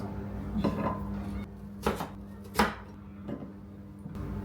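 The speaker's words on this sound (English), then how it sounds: "And then I'm gonna just cut, it's cut like this in wedges." A knife cuts potatoes into wedges, landing in three or four sharp thuds on a board separated by quiet pauses, fairly faint and close.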